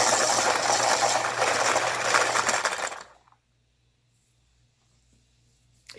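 An aging electric pencil sharpener that has been sputtering whirs loudly for about three seconds, then cuts off, leaving near silence and a faint click at the end.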